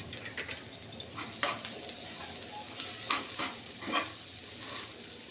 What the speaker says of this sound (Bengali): দিয়ে হালকা হাতে একটু নাড়াচাড়া করে নিচ্ছি। আর গ্যাসটাকে একবারে কম রেখেছি।